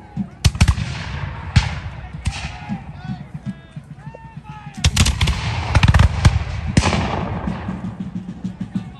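Cannon firing grape shot at a Revolutionary War reenactment, heard as a series of sharp, loud booming blasts spread across the stretch, with crackling echoes and crowd noise between them.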